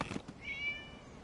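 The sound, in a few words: cat meowing in the video game Genshin Impact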